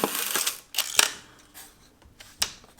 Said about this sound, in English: You need to cock the shutter